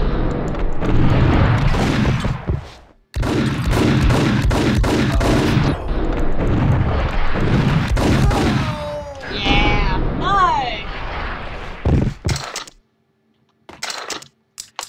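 Gunfire and explosive game effects from the video game Max Payne, dense and loud throughout, with a short pause, whistling ricochet-like tones near the end, then a few sparse bursts before fading out.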